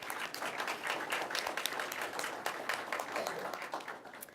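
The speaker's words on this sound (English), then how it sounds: "Let's give them a round of applause." An audience at a county 4-H awards program applauds the clubs being honored, a dense, steady wash of many hands clapping together, continuous and even throughout.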